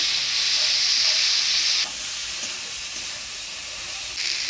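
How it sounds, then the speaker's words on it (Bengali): Okra frying in a pan with ground coriander-cumin and green chili paste, turmeric and salt stirred in, giving a loud close hiss and sizzle that drops abruptly, then resumes with scraping stirs. "এবারে দিয়ে দেবো বাটা মশলা, ধনিয়া জিরা বাটা কাঁচা লঙ্কা বাটা, দেবো হলুদ লবণ দিয়ে ভিন্ডির সাথে ভালো করে নাড়াচাড়া করে নেব।"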